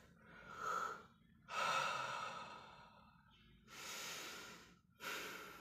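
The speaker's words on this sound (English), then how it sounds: "And you just need to take a deep breath." Slow, deep breaths drawn in and let out one after another, a long inhale followed by a pause and then two more heavy breaths, close and fairly quiet with no other sound around them.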